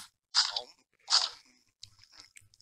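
Crunchy broccoli being eaten in the Toca Kitchen 2 video game: two sharp, crisp crunching bites close up, followed by softer chewing clicks.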